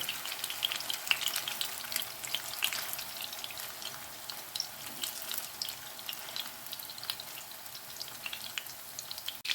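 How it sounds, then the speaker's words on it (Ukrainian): Meat patties sizzle and spatter in a frying pan, a steady crackling hiss with scattered sharp pops running throughout, close and fairly quiet with no voices. "і смажила з усіх боків, а тепер можна винімати"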